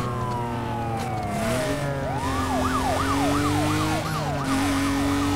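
Police car sirens wail and yelp in the Need for Speed Most Wanted racing game, rising and falling over a steady engine drone, loud and close with no talking.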